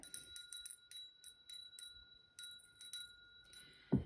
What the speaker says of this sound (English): I am going to go ahead and ring the bell.